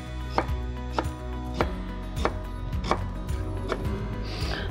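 A knife slices peeled fresh ginger on a cutting board in crisp, evenly spaced chops, roughly one every half second. The thuds land close and clear over a faint steady hum, and no one speaks.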